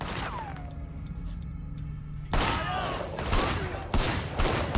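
Gunfire crackles in the open-world action game Sleeping Dogs, with loud, close bursts of shots and sharp impacts arriving in clusters over constant game background noise.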